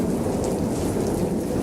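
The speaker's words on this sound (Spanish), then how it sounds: "Dele la tormenta, hermano." A thunderstorm sound effect plays loudly through speakers in a church, with dense, steady heavy rain and a low rumble of thunder underneath, continuous throughout.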